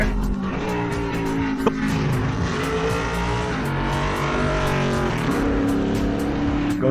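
NASCAR race cars roar past at around 200 mph, engines screaming and overlapping in a dense, loud rush with pitch sweeps as each one passes.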